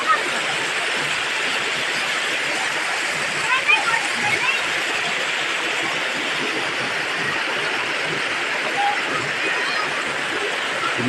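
Mambilisan Falls waterfall pours in a constant, dense roar of falling water that holds steady throughout, loud and close with no voices standing out.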